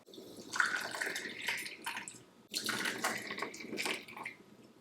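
Chai tea poured through a strainer into a cup, a close, continuous liquid splash and trickle in two bursts separated by a brief pause.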